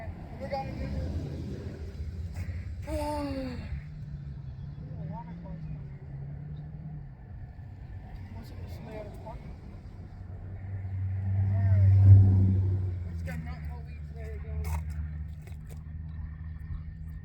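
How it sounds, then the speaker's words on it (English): A car drives along a road beside a lake, its engine rumble swelling to a loud peak as it passes close, then fading, with people talking nearby. "There goes another car."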